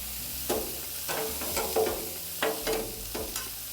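Cooked corn and beans tossed and warmed on a Blackstone griddle, with spatula scrapes and clatters recurring about every second over a soft sizzle.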